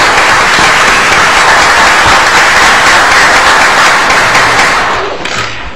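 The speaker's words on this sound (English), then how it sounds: "Let's give them a round of applause." Sustained loud audience applause fills a public meeting hall, dense steady clapping that carries on evenly before tapering off near the end.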